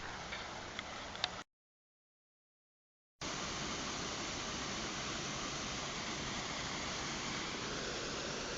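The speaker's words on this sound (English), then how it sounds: "That sound is the falls." Low-flowing mountain waterfall in summer, a steady broadband rush of falling water, close and continuous, briefly cut to silence for about two seconds before resuming at full level.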